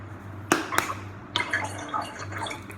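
Water poured while cooking in a home kitchen, a few sharp splashes and clinks followed by uneven dribbling and trickling, close and fairly loud.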